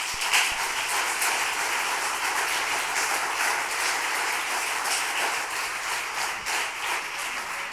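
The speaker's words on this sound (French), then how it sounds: "ces gens-là méritent une bonne main d'applaudissements pour le courage qu'ils ont eu" Audience applause at an election-night event in Dolbeau-Mistassini, honouring the mayoral and council candidates: steady, dense clapping from a sizeable crowd, held at an even level throughout with no voices above it.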